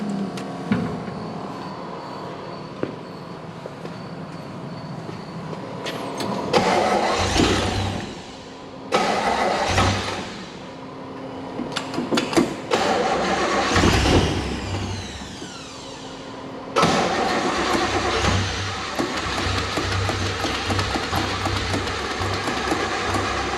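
A Chevrolet Nova's 383 stroker V8 cranks and catches in several attempts: the starter whirs, the engine fires into rough, loud revving bursts, drops off, then cranks again and settles into a sustained running rumble.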